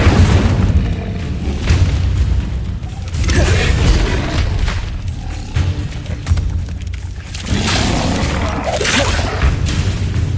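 Spell-casting effects from the Hogwarts Legacy video game, including an Incendio fire spell, sound as a dense run of booming bursts and whooshing blasts over a constant low rumble, loud throughout with no talk.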